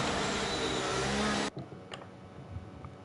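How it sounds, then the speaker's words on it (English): Steady, loud roar of racing car engines in a sim racing Hungary round, cutting off abruptly midway to a quieter background with faint clicks and murmurs. "if you just put up with the noise of the cars for the time being"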